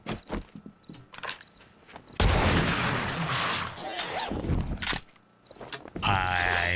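A loud, sustained roar and crackle of an explosion in 7 Days to Die bursts in after scattered game sounds and lasts a few seconds, followed by more clattering bursts.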